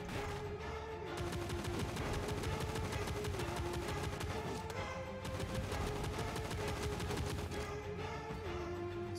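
Continuous rapid gunfire from a gun in the pixelated rogue-like shooter game Monsters & Monocles, a dense, steady stream of loud shots lasting throughout with brief dips.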